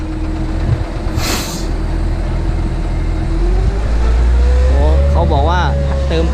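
A wheel loader hauling sand runs with a loud, steady engine rumble that continues throughout, with a whining rise near the end and someone talking over it.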